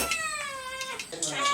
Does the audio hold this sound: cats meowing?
yes